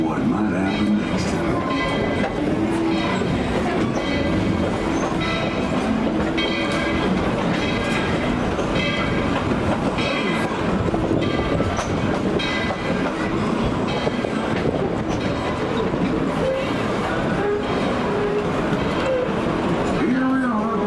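The Tweetsie Railroad train rumbles steadily along the rails with rhythmic clacking, loud and continuous throughout.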